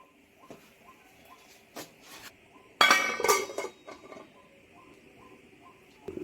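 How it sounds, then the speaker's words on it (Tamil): A metal lid is set on a cooking pot of boiling food, giving one loud clattering clank that follows a few lighter clinks, with a quiet kitchen hum around it. "இதை மூடி போட்டுற வேண்டியதுதான்."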